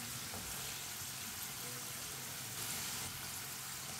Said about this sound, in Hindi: आप देख सकते हैं चिप्स हमारी दोनों साइडों से फ्राई हो चुकी है।